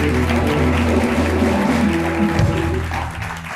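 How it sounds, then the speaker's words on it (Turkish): A studio audience on a Turkish talk show claps in a dense, sustained burst of applause that holds steady, then thins slightly toward the end. "Tekrar alkışlıyoruz."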